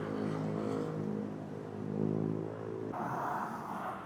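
A Kawasaki ZX-4RR sport bike's four-cylinder engine holds a steady, close, loud idle-to-mid-rev drone, with the tone shifting abruptly near the end.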